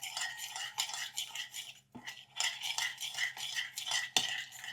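A spoon stirs and tosses a carrot and cucumber salad seasoned with salt and ground black pepper in a bowl, producing a steady, close scraping and clinking with a brief pause midway.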